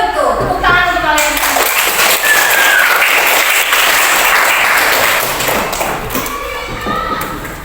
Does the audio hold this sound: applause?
yes